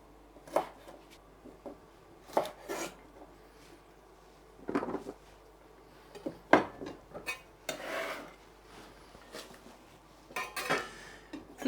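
A knife taps on a cutting board while green beans are topped and tailed, a string of scattered, fairly faint clicks and knocks in irregular bursts with quiet gaps between them.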